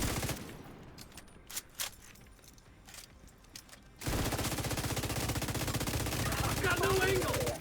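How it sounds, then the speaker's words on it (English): Video game gunfire plays: a few sparse shots ring out, then a sustained rapid burst of automatic fire runs loudly to the end. "Should be able to shoot this one from here."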